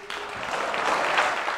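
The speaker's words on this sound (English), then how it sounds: "So some applause there" An audience applauds Governor Pritzker's budget speech line about eliminating the grocery tax, a brief burst of clapping that swells and holds steady.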